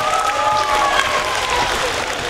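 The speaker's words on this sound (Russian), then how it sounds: "Давайте похлопаем, трибуны." Spectators applaud at a streetball tournament, a dense, steady wash of clapping from the stands lasting throughout, with tonal crowd noise riding above it.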